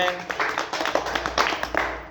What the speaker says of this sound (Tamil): ஜோயாவுக்கு ஒரு கைத்தட்டி கொடுத்துருங்க